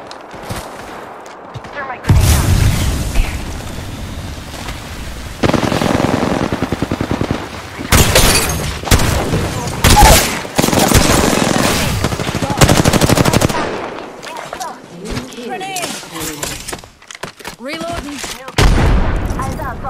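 Rapid automatic weapon fire and explosions burst in loud, dense volleys in a video game match, pausing briefly between salvos. A voice speaks in places under the gunfire.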